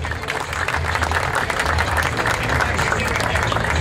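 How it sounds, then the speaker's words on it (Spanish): A crowd at a town fair's queen coronation claps in sustained, even applause throughout, with a low hum running underneath. "Vamos a darle un fuerte aplauso"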